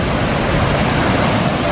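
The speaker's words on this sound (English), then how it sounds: "The waves are just pounding and pounding, and when it hits the rocks, it sounds like a bomb" Ocean surf pounds against rocks along the coast of Nusa Penida, Bali, a loud, continuous roar of crashing water and spray with no talking.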